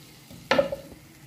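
Food sautéing for a Sri Lankan-style pot biryani, cooked in a lidded pot: a single short sizzle with a stirring scrape, fairly close, fading within half a second.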